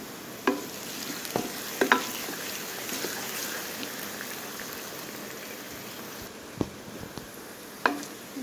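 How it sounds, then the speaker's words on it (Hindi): Crushed garlic and onions fry in a pan with a steady, soft sizzle, broken by a few light clinks and scrapes of stirring, heard close with no talking. "अब इसके अंदर हम कुटा हुआ लहसुन शामिल करेंगे और 1 से 2 मिनट के लिए भून लेंगे।"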